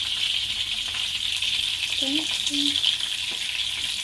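Tuyo, dried fish, frying in hot oil with a steady, loud sizzle throughout, a few faint rattles of the pan, and a brief voice in the background.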